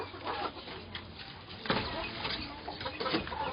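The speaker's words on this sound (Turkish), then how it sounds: "Horoz bunlar hepsi de." Six-month-old young roosters of an Indian fighting breed call from close by on a farm, with rough clucking and crowing sounds and a louder burst in the middle against steady low background noise.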